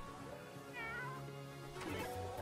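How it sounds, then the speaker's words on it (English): A cat in the video game Not A Hero gives a drawn-out, wavering meow that rises and falls, followed by a second shorter cry, loud and close with no voices. "Here comes the cat to lick up the drink."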